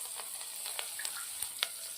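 Garlic, ginger and green chillies fry in hot oil for shahi khichdi, giving a steady, even sizzle with a few sharper pops and crackles, close and fairly quiet, with no talking.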